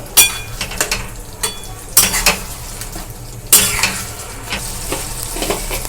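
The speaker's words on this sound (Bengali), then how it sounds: "এবার মশলাটাকে ভালো করে কষিয়ে নেব।" Spice masala with Kashmiri chili powder frying in a pan, with a steady sizzle broken by repeated scraping strokes of a spoon stirring against the metal, close and fairly loud, with no talk.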